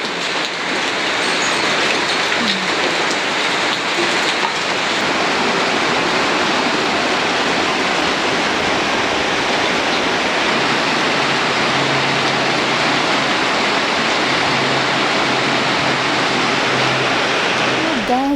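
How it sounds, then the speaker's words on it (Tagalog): Heavy rain pours down in a loud, dense, unbroken roar that lasts throughout. "ang lakas pa rin ng ulan."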